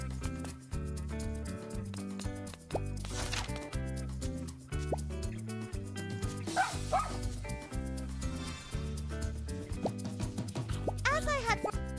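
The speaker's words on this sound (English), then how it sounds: "Great idea getting a dog to help us." Dog barking in the fantasy MMORPG Draconia Saga on mobile, a few short barks mixed into a busy game soundtrack with music and character voices talking throughout.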